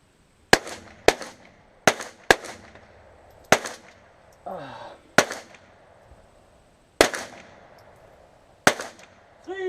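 Sharp gunshots from a shooting drill crack out one at a time at irregular intervals, about eight loud reports, each trailing a short echo, with a brief shouted voice in between.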